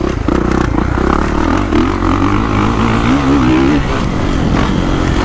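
A 2022 450cc motocross bike, either a Kawasaki KX450SR or a Husqvarna FC450 Factory Edition, is ridden hard. The engine roars loud and close throughout, with its pitch rising and falling as the rider works the throttle and gears.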